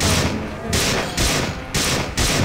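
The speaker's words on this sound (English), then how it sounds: "So the assault rifle's probably better for that little bit because he's coming charging at you" Assault rifle gunfire in System Shock 2 rattles out in loud, dense bursts, several sustained volleys separated by brief gaps, close and harsh, with no speech.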